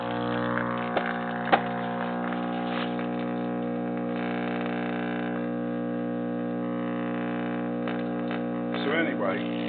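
A vintage Zenith M506C tube radio gives off a steady, buzzy electrical hum with layered low tones, joined by faint crackle and static that stay even throughout.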